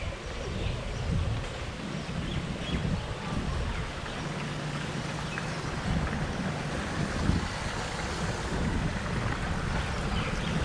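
Steady breeze at a Maui beach resort in Ka'anapali, a continuous rushing wind with microphone buffeting and a faint wash of surf beneath, with no voices.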